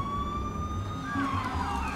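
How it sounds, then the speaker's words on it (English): Emergency vehicle sirens wailing in a New York street scene from a TV show, several rising and falling tones overlapping at moderate distance over low traffic rumble. "What is the point of having sirens if nobody gets out of the way?"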